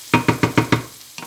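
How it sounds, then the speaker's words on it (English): A spatula knocks and scrapes through spring onions and peppers frying in a pan for Cantonese-style pork rice, giving five quick, evenly spaced clinks, a pause, then one more, close and fairly loud. "let's go do one more mix. The spring onions and peppers."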